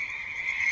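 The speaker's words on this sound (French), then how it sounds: "Un croassement de grenouilles ou de crapauds." A phone ringtone of croaking frogs or toads sounds in a steady, buzzy trill that holds at one pitch, close and clear with no voices.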